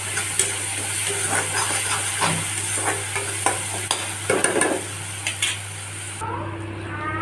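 Turmeric is stirred into a frying paste of onion, garlic, ginger and tomato, with a steady close sizzle, repeated spoon-against-pan scrapes and a low background hum.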